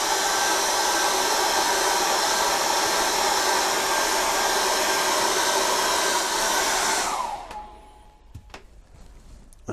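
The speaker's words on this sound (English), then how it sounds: "I'm going to get my hairdryer and I'm going to dry that." A hair dryer drying acrylic paint blows loudly with a steady, whining roar for several seconds, then shuts off and winds down, leaving a few quiet knocks and clicks.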